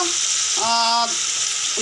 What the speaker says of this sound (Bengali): মা টমেটো আর পেঁয়াজের পেস্টটা আমি দিয়ে দিয়েছি এবার এটা একটু ভালো করে ভাজা ভাজা হবে